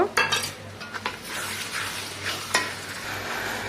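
Spices marinated in yogurt hit a hot pan for a chicken curry, a bright sizzle with quick scraping stirs and clinks of utensil on cookware, close and fairly loud.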